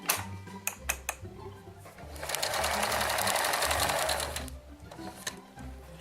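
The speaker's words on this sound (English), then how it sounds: "Put it on longer stitch. And maybe put on a zigzag just to finish it off." A sewing machine runs a zigzag stitch at a mending repair session. A steady, close whirring buzz lasts about two seconds. Scattered clicks and handling knocks come before and after it.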